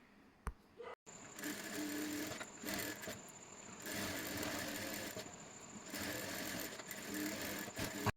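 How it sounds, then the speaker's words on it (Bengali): A sewing machine stitches the side seam of a boat-neck princess-cut blouse with lining fabric, running in steady sustained bursts with brief pauses, close and fairly loud, with no talking. "এরপরে সাইড বরাবর সেলাইটি করে নিচ্ছি।"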